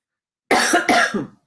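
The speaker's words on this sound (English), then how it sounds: "pardon my cough" Two or three quick, harsh coughs in close succession from one nearby person, then silence.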